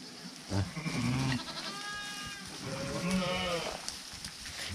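Goats and sheep bleat repeatedly at a farm with rams and dogs, several wavering calls overlapping across the clip amid faint background talk.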